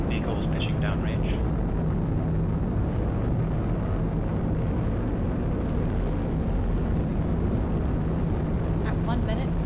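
A SpaceX Falcon 9 rocket carrying the CRS-15 Dragon resupply ship to the International Space Station pitches downrange with a continuous broadband roar, dense and steady throughout, while a voice talks over it.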